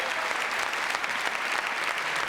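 A television studio audience claps loudly and steadily to welcome a guest onto a French talk show, a thick, even wash of many hands with no talking over it.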